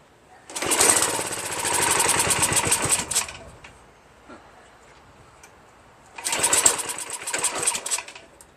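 A Craftsman 5.5HP 26-inch OHV snow blower engine, after a carburetor clean, fires up for about two and a half seconds, dies, then roars to life again briefly, a loud, close, rattling chug each time.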